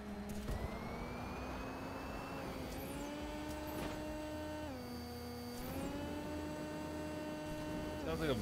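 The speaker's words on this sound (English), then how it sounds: "Sounds like a vacuum cleaner when you go over it." A steady whirring toy-car engine drone in the game Hot Wheels Unleashed, with shifting pitch gliding up and down, sounding much like a vacuum cleaner, continuous and close, with no talking.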